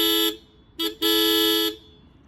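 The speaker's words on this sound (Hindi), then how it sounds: "मैंने इसका हॉर्न भी मॉडिफाई करवा रखा है" Two loud blasts from a modified dual heavy horn fitted to a TVS Ntorq scooter, a short honk followed by a brief pause and then a longer sustained blare, close by with no talking.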